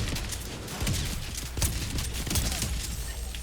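Fortnite shotgun or SMG gunfire at Colossus Lodge: a few scattered shots crack through a steady, fairly quiet background rumble, spaced roughly a second apart.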